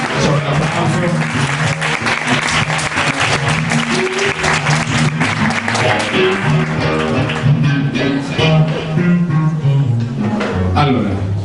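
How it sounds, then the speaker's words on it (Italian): Clapping from an audience at a fan gathering in Rome fills the space with a dense, sustained roar of many hands, steady throughout with voices mixed in. "c'è un applauso"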